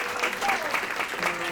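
Audience at a comedy fundraiser show applauding the teachers, a brief steady wash of clapping and crowd noise with a faint voice underneath.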